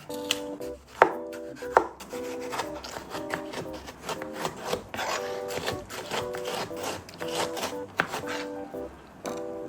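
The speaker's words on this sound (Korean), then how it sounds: "토마토도 양파랑 똑같이 다이스 해주면 됩니다." A knife dices tomatoes on a cutting board, giving a steady run of quick, close chops, with a few sharper knocks early on.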